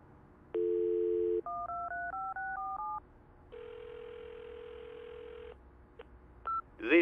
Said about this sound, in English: Let's try redialing it.